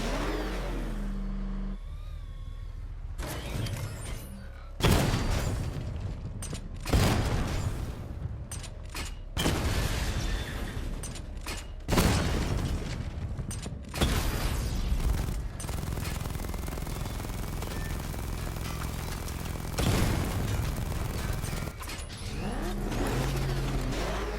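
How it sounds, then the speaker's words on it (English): Batmobile missile barrage in Batman: Arkham Knight, a dense stretch of repeated booming explosions and bursts over a continuous engine-like rumble, loud and close, with sharp blasts recurring irregularly throughout. "Destroy targets to charge up weapon energy and activate missile barrage"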